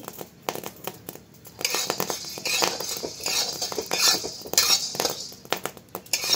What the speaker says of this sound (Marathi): गहू भाजले की कसा आवाज येतो गव्हाचा ते।